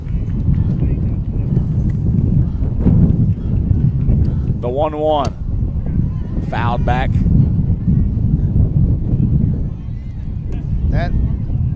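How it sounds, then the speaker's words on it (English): Strong, continuous wind gusts buffet an open microphone at an outdoor high school sports broadcast, a dense low roar running throughout beneath ongoing commentary voices. "Oh, my Lord, at this wind."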